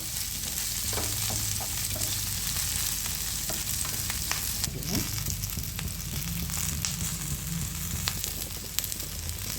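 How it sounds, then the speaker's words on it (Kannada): Cashews, cloves and garlic fry in oil over a medium flame, giving a steady close sizzle with scattered stirring scrapes and soft clinks throughout, and no voices. "ಗೋಡಂಬಿ ಎಲ್ಲ ಲೈಟ್ ಬ್ರೌನ್ ಆಗೋವರೆಗೂ ಹುರ್ಕೋಬೇಕು ಎಣ್ಣೆಲಿ. ಮೀಡಿಯಮ್ ಫ್ಲೇಮಲ್ಲಿ ಹುರ್ಕೊಳ್ಳಿ"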